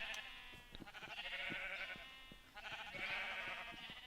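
Sheep in a Minecraft farm pen give a run of repeated bleats, steady and fairly close, with several overlapping calls one after another and no talking.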